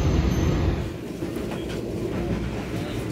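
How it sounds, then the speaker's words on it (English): High-speed train running between Tbilisi and Batumi, a steady loud rumble of wheels and carriage noise throughout, slightly louder at the start, with no talking. "Let's start our journey by taking a high-speed train from Tbilisi to Batumi."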